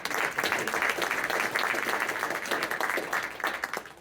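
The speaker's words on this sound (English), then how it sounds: "So just a quick round of applause." A quick round of applause from an audience at an Arizona State University group session, a dense, steady patter of many hands clapping at moderate distance for about four seconds.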